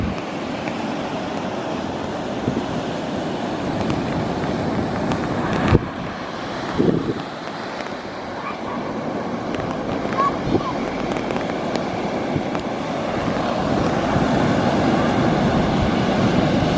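Sea waves wash ashore at a beach under strong wind buffeting the microphone, with people talking over the rumbling surf throughout.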